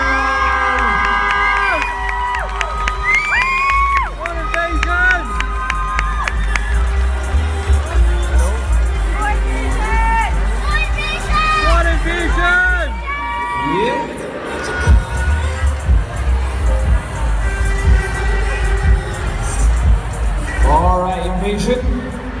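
A large crowd at a U14 beginners world street dance championship cheers and whoops, with children shouting over steady dense babble, while an announcer's amplified voice calls out at moments.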